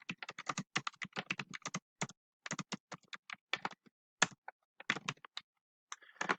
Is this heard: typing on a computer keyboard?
yes